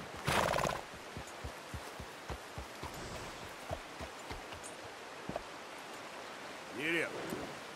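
Horse whinnies in a video game during free roaming, a burst of neighing at the start and another short whinny near the end, with soft hoof clops and outdoor ambience between.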